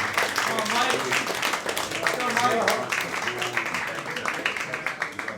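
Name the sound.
audience applause for comedian Mike Morrison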